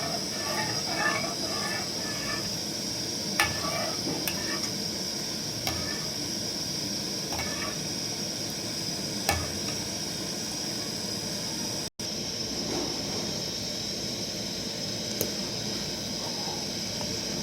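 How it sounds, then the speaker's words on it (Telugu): A pot of ragi porridge sweetened with jaggery is stirred steadily, giving a constant soft hiss and bubbling. Occasional light scrapes and taps of the spoon against the pot cut through. "మధ్య మధ్యలో ఇలా మనం తిప్పుకుంటూ ఉండాలి"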